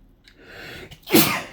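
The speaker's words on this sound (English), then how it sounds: "I needed to sneeze." A single sharp sneeze bursts out after a brief quick intake of breath, close and loud, with no talking.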